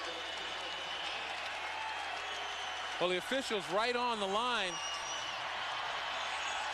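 A basketball crowd at the 1998 Great Alaska Shootout championship between Duke and Cincinnati cheers and applauds in a dense, steady roar, with a commentator talking over it.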